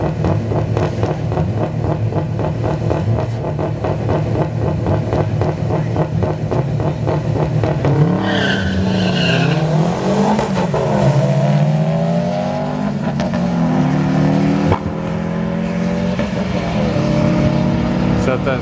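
A Subaru race car at a drag strip test-and-tune night pulls away under hard acceleration, its loud engine note climbing steadily through the gears, close and dominant, with crowd and track noise around it.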